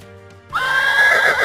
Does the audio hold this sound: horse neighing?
yes